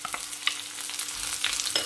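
Sliced onions fry in hot oil with urad dal and dried red chillies for a tamarind curry, a soft close sizzle with a few light stirring scrapes, brief and without talk.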